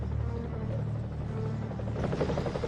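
A helicopter landing in a sniper video game, with a steady loud rotor drone filling the whole stretch and a rise in rumble and clatter near the end.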